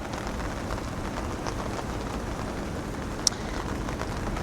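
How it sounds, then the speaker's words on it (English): Rain falls over Tokyo as a soft, steady, even hiss throughout, with one sharp click near the end and no voices. "Tokyo is raining until 9 p.m."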